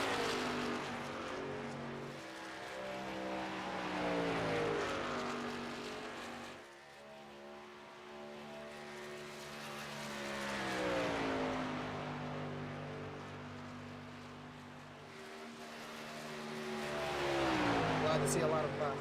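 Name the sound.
race trucks on track at Charlotte Motor Speedway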